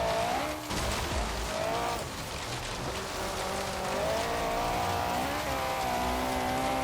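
A modified Mini driven off-road in Forza Horizon 3, its game engine holding a steady, rising drone with a layered harmonic whine, mixed with tyre scrub and gravelly surface noise that fill the whole stretch.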